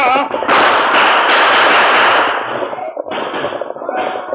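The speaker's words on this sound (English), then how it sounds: "Use your guns, Tonto." Loud, close volleys of gunshots ring out in an old radio western drama of the Lone Ranger, dense cracking bursts during a wagon attack, with a brief pause before more shots follow.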